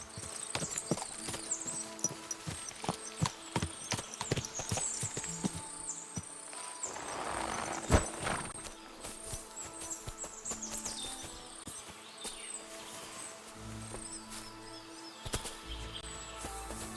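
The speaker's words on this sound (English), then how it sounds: "Horse? What's it doing here in the woods?" Horse hooves clop in the Kingdom Come: Deliverance 2 video game, an irregular string of hoof falls in woodland with ambient forest noise and a brief rustling burst partway through.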